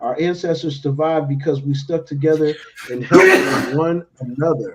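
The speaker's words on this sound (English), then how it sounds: "Never hold your sneezing." A single sharp, loud sneeze bursts out close by in the middle of a man's ongoing conversational speech, and the talking resumes right after it.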